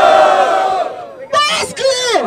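A crowd at a Batalha da Aldeia rap battle in Barueri, Brazil roars with loud shouts and cheers, breaking off briefly and then surging back in a burst of yelling.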